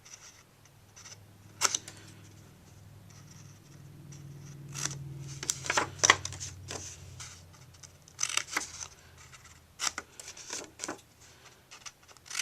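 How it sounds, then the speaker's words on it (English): Scissors snip the triangular corners off a paper card, a series of crisp, sharp cuts at irregular intervals, close and clear over a quiet background with light handling rustles. "Then you take your scissors and you snip the triangles off"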